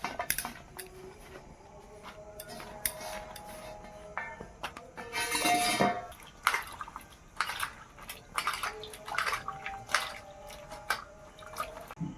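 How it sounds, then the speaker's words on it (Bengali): Peeled tamarind rinsed in water in a kitchen, with soft drips, splashes and squishy handling plus light clinks of a bowl, quiet and close. "এবার তেঁতুলগুলোকে আমি জল দিয়ে একটু ধুয়ে নেবো।"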